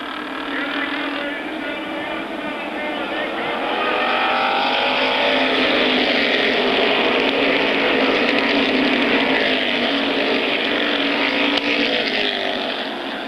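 Late model Sportsman stock cars race a 25-lap main event at Airborne Raceway in 1992, a loud continuous engine roar that swells as the pack passes and holds under a commentator's talk.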